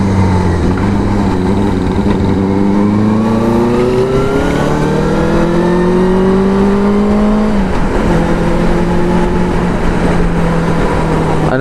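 Wind noise roars through a modular flip-up HJC C70 helmet on a Benelli TNT 600i motorcycle at about 60, with a loud, constant rush over rising and falling engine tones, no talk.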